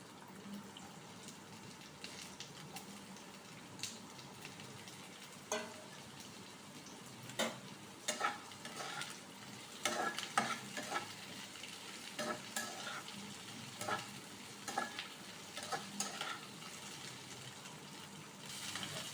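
Chopped onion and capsicum frying in a pan with a steady low sizzle, broken by sharper scrapes and clinks of stirring that come in irregular bursts, fairly quiet and close, with no talk.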